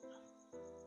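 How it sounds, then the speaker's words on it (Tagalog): Crickets chirp at night in a quiet spot beside an empty grassy lot, a faint, steady pulsing trill heard alone. "At tila ba puro huni lamang ng kuliglig at hampas ng malamig na hangin lang ang nagpaparamdam."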